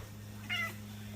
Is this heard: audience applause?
no